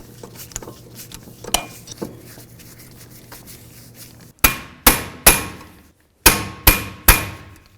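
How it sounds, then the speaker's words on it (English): Tightening brake rotor screws on a Honda Accord hub: soft tool ticks and scrapes, then a series of sharp, ringing metallic clanks in two groups of three, close and loud. "We'll start in our screws and then tighten them up."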